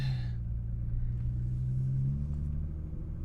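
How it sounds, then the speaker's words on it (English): Jaguar F-Pace S with a muffler delete, giving a low, steady exhaust rumble near at hand, a deep drone easing slightly after a couple of seconds. "The exhaust sounds so nice from the outside"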